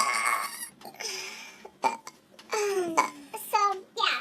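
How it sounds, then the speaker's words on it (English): Burps in a burping contest, several short close voiced belches in an irregular series, with babbling voices and brief laughter around them. "It's a burping contest."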